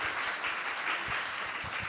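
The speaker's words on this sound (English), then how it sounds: "Big round of applause." A gallery audience claps after an artist's talk at an arts centre, a short, fairly faint burst of scattered applause heard from a distance.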